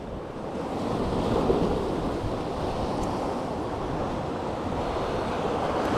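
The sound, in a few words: wind blowing at the fishing spot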